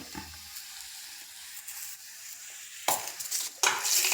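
Fried tempering of chilies poured into a mango pulissery curry, giving a soft sizzle that swells into two louder hissing bursts near the end, with light stirring.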